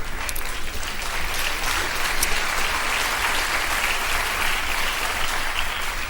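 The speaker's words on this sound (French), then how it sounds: "si c'est pour applaudir comme ça" An audience claps continuously in a dense, even roar of applause that holds steady throughout without a pause.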